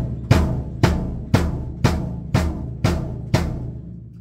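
A bass drum thumps a steady crotchet beat of eight even hits, each with a short ringing decay, close and alone.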